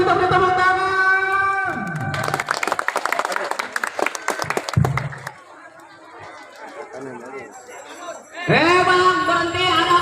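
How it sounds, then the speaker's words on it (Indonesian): Crowd applause and chatter at a village anniversary celebration, a burst of dense clapping for a few seconds between stretches of amplified singing or speech, then fading into murmuring crowd noise. "Kembali kita beri tepuk tangan."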